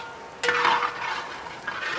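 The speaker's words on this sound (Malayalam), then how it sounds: "വറ്റൽമുളകിന് ശേഷം നമ്മൾ കറിവേപ്പില ഇട്ട് അതും വഴറ്റി" Curry leaves drop into hot oil after dried red chillies, setting off a sudden crackling sizzle that flares loudly, then settles into a softer fizz. A faint utensil clink follows near the end.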